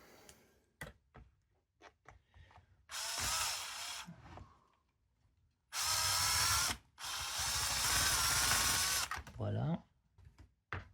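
Screws being driven into a replacement suspension arm on a Traxxas Rustler RC truck: three loud bursts of whirring, ratcheting power-driver noise of a second or more each, separated by quieter handling clicks, close by.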